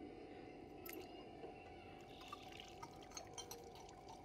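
Water trickles and drips into a tank, a faint splashing and gurgling flow with irregular small drops, heard quietly and close.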